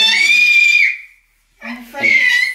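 A child screams in a house being redecorated: a long, piercing, loud high-pitched shriek, a brief silence, then a second shrill scream, close by and alone.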